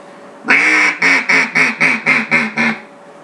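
A hand-blown duck call sounds a comeback call: one long loud quack followed by a rapid descending run of about seven shorter quacks, close and clear.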